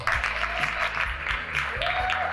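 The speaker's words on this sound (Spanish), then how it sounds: "Un aplauso." An audience at an occupational therapy conference claps, a fairly quiet spread of hand applause with uneven bursts over a couple of seconds.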